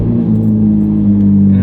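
A Ferrari 458 engine with a gas leak runs with a steady, low throbbing hum, close and fairly loud, holding an even idle throughout.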